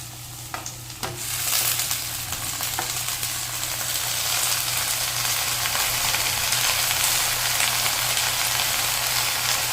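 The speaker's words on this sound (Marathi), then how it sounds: "आता आपण त्याच्यात चवळीची भाजी टाकूया." Chavli leaves with softened onions sizzle loudly in hot groundnut oil, a dense, steady frying hiss throughout after a brief stir with a few scraping taps at the start.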